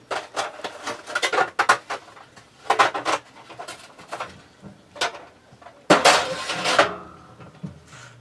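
A polymer clay piece being placed into a home baking oven: a series of sharp clattering knocks and metallic rattles in bursts, including a louder clunk near the end like the oven door or rack, close and without speech.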